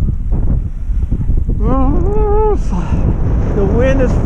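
Cold wind blowing hard across the microphone while fishing by the sea, a loud continuous rumble with brief tonal squeals and gusts over about four seconds.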